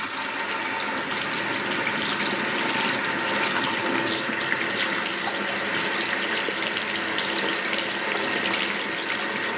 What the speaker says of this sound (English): And then I start rinsing the perm for 5 minutes.